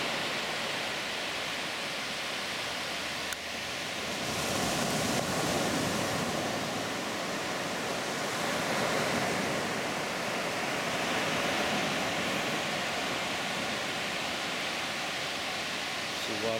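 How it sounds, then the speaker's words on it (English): Broadband rushing wash of surf on a beach at Playa Potrero, Costa Rica, with water draining from small sand funnels, a continuous hiss that swells slightly after a few seconds and holds steady with no voices. "Water's draining out of these little funnels."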